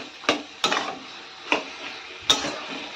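Hilsa fish head and taro leaves being stirred in a pan, four distinct scraping strokes of a spoon against the pan spaced irregularly over a soft background sizzle.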